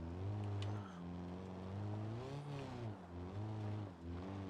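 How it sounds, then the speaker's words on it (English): Car engine in BeamNG revving up and down repeatedly on a rocky road in first gear, its pitch rising and falling in waves with clutch slip or wheelspin, loud and close. "when the engine's revving up like that, it's the clutch slipping, or if we're actually losing traction"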